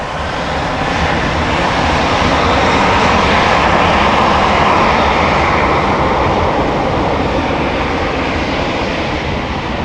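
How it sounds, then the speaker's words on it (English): An airliner's engines spool up on the runway at Amsterdam Schiphol Airport, producing a loud, close, sustained roar that stays strong and even for the whole stretch. "But now it is spooling up,"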